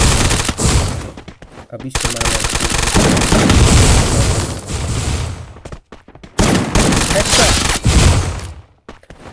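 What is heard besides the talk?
UMP gunfire in video game Garena Free Fire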